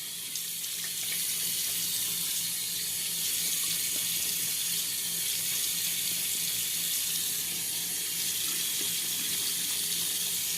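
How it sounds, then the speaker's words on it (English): Tap water running into a sink during a shave, a steady bright hiss that holds loud and even from start to finish with no voices over it. "once I'm done running the water"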